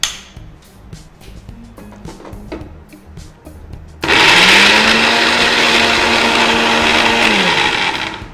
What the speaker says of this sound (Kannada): ಇದನ್ನ ಪೇಸ್ಟ್ ಮಾಡ್ಕೊಳ್ಳೋಣ.